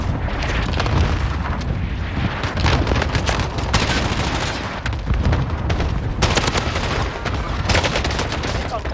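In Call of Duty Warzone, an airstrike lands among continuous gunfire, with loud overlapping booms, crackling bursts and rapid shots filling the whole stretch and players' voices faintly mixed underneath.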